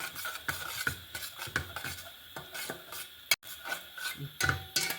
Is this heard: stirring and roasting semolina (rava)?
yes